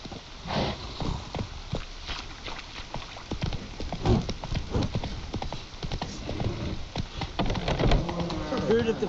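Roach, a horse in The Witcher 3, gallops with a rapid, steady clip-clop of hooves throughout, close and loud, while game voices talk over the hoofbeats and a brief whinny stirs near the end.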